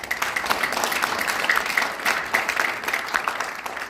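Audience applause at a Korean safety leaders' forum inaugural celebration, a steady, dense wash of many hands clapping for about four seconds with no talking.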